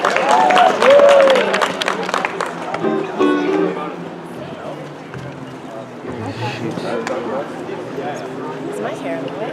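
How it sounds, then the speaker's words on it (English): Audience applause at a coffee house performance, a burst of clapping and cheering at the start that fades into crowd murmur, with people talking over it. "give them a nice round of applause"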